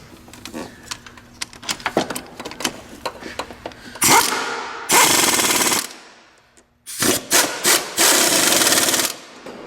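Bolts being tightened on a 2002 Ford Focus during a clutch replacement: scattered close clicks and taps give way to two long, loud rattling power-tool bursts and several shorter ones.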